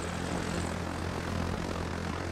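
A steady, droning helicopter engine hum in the video game Arma 3, with a constant low rotor thrum, sustained and fairly loud throughout, with no voices.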